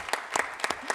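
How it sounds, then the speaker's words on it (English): A handful of distinct claps, roughly four in one second, at a Sacramento City Unified School District board meeting honoring a student quarterback, close and uneven. "You can give her a round of applause"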